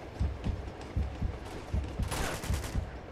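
Gunfire in Uncharted 2, a rapid series of punchy, close shots in an uneven rhythm, ending in a brighter, sharper burst of reports, with no talk over it.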